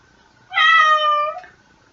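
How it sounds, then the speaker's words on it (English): A house cat lets out one clear, drawn-out meow of about a second, close by and loud against an otherwise quiet room. "Hello, cat."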